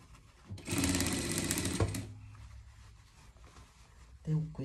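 A sewing machine runs in a fast, steady burst for about a second, stitching pet pajamas, then stops; a voice speaks briefly near the end.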